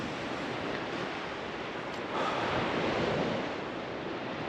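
Sea waves wash steadily onto an East Coast UK beach at Sandilands, a continuous broad surf roar with some wind buffeting the microphone and a slight swell midway.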